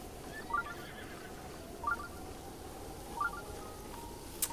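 Three short horse whinnies spaced evenly over a low steady background in Breath of the Wild, each neigh brief and moderately loud, followed by a faint click near the end.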